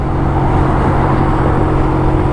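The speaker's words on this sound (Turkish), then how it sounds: "Bak şu an üst vitese attık. E, boğulmaya başladı." A Kuba Superlight 125 motorcycle engine being run in on a highway drones loud and close after an upshift, sounding strained and bogged down, with steady wind and road roar throughout.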